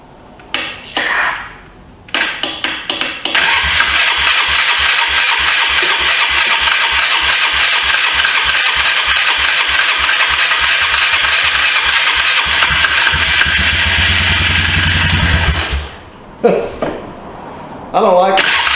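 A 2004 Polaris Trail Boss 330 ATV engine cranks in a few short bursts, then catches and runs loudly and steadily for about twelve seconds with a rhythmic pulsing before cutting out, followed by more brief cranking.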